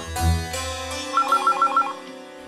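A telephone rings close by, a bright repeating electronic ringtone with a rapid pulsing pattern over a background music bed.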